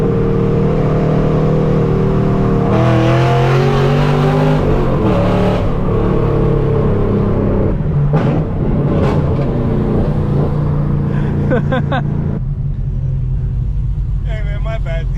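A tuned car with an aftermarket exhaust, owned since 2006, revs hard close by, its loud throaty rumble climbing and falling in repeated pulls while people talk over it.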